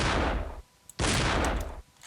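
Gunfire aimed at a giant robot in Duke Nukem Forever, the 2001 video game: two dense, roaring bursts of shooting, each lasting about half a second, separated by a short gap.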